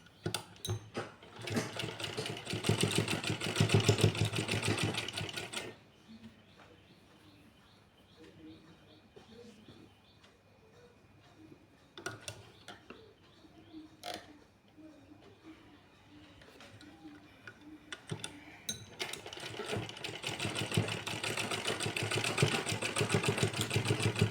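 An electric sewing machine runs in long steady bursts of stitching at the start and end, loud and close, with a quieter stretch between where someone talks and the fabric is handled.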